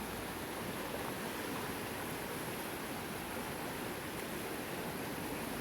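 Snowmelt water rushing down a swollen stream in a Colorado state park: a loud, continuous, even roar of flowing water close by, with no voices.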